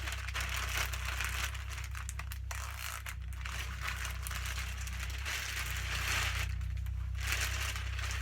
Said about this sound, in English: Apologies for the crinkles.